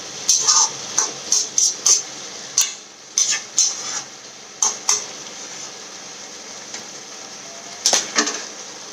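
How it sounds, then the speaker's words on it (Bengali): Greens and mixed vegetables for labra are stirred in a cooking pot, a series of bright metallic scrapes and clinks of a spoon in quick bursts over a soft background hiss, then quieter before a final pair of strokes. "এবারে আমি সুন্দর করে সব শাক এবং সবজি মিশিয়ে দিচ্ছি"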